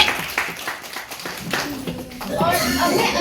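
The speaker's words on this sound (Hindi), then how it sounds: "इन सभी के लिए भी जोरदार तालियां हो जाए" Audience clapping at a disability rehabilitation assessment camp in Nirmand, a loose burst of hands building toward the end over room murmur and voices.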